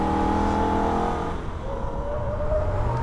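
A Holden VF Ute's engine revs and whines on a Nürburgring lap, pitch falling then climbing again as it accelerates out of a corner, loud and close.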